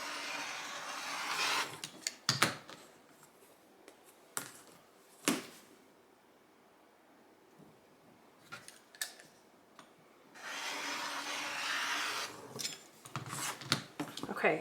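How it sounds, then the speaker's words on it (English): Fabric pieces for an Indiana Puzzle quilt block being cut corner to corner, with quiet slicing strokes and small sharp clicks spaced apart, close by, plus a few louder stretches of rustling. "And then lastly, we will just cut from corner to corner, both directions."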